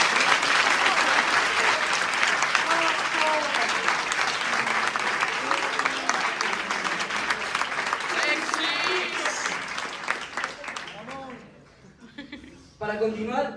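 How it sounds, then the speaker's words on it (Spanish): Audience applause for the teachers at a secondary school (4º ESO) graduation ceremony: steady, dense clapping from a large crowd with some murmuring and light laughter, thinning out and fading near the end before a brief final burst. "Así que un fuerte aplauso para ellos."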